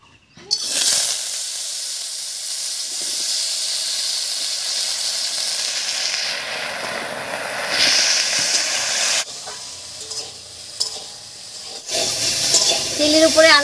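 Potatoes sizzling as they hit hot mustard oil in a kadai over a village stove, a loud sustained hiss that starts abruptly and carries on with fluctuating intensity and a few clatters of stirring.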